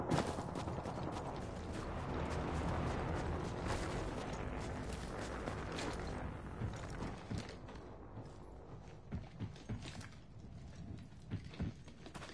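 A Bloodhound character in Apex Legends on PS4 heals with a med item, producing a continuous run of soft mechanical clicks, rustles and ratcheting taps that thin out into scattered sharper ticks near the end.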